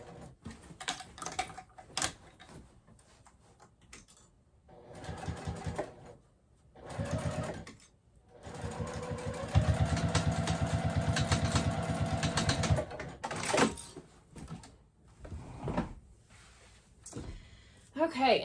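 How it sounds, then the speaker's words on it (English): A sewing machine backstitches over tote bag straps and a center connector in several bursts of rapid mechanical stitching, the longest running a few seconds, with pauses between and someone talking throughout. "I am going to go ahead and backstitch over the straps and that center connector just a couple times"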